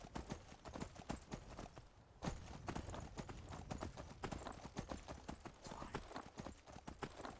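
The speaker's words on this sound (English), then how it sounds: "Ride by horse." Horse hooves in the video game Skyrim clip-clop in a steady rhythmic gallop while riding, a continuous run of soft thuds over faint background noise, quiet overall.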